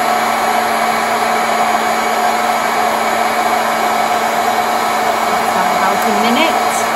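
An Ambiano hot-air popcorn maker runs with a loud, steady, close-up fan roar and hiss that stays constant and unbroken throughout, with a few faint kernel pops near the end.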